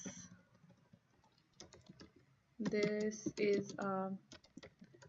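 Computer keyboard typing while HTML code is entered, a light patter of keystrokes in the first half that gives way to a person speaking over and between the taps.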